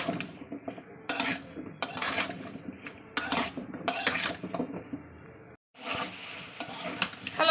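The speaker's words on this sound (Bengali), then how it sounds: "আমি ভালো করে কুমড়ো আলুটাকে একটু ভাজা ভাজা করে নেব" Pumpkin and potato pieces fry in a little oil in a pan, a soft sizzle under repeated clinks and scrapes of a metal spatula stirring against the pan, with a short silent gap.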